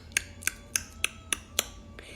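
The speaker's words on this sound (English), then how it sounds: "it's your tongue is sort of tapping on the roof of your mouth." Six sharp tongue clicks made by tapping the tongue against the roof of the mouth, spaced evenly about a quarter second apart, crisp and close with nothing else sounding.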